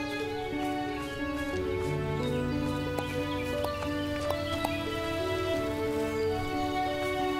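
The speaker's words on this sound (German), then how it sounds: "So, sehr schön, das Pferd folgt uns." Hooves of a horse clip-clopping in the farming video game Everdream Valley, a few light, sparse hoofbeats under steady, sustained background music that dominates throughout.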